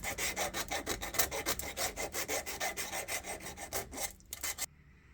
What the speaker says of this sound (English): Filing it down now just to get